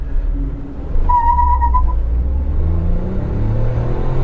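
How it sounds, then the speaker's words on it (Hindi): A 2022 Tata Nexon XZ+ manual petrol engine revs hard in first gear with the AC off. Its steady low rumble climbs in pitch toward the end, and a brief whistling tone rises above it early on. "red lining eight 6000 RPM"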